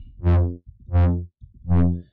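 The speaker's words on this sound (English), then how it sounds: "That just brings out a lot more higher harmonics and distorts it a bit." A distorted synth brass lead made in the Vital synthesizer plays three sustained notes with swelling attacks and bright, buzzy harmonics, each separated by short gaps, loud and alone.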